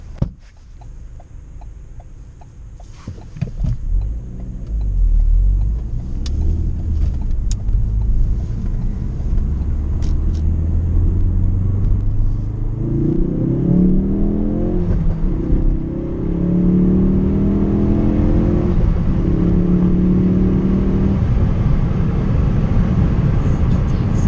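A Ford Focus RS Mk3 fitted with a K&N air filter accelerates. Its loud, steady engine drone rises in pitch through the gears, heard from inside with some wind noise.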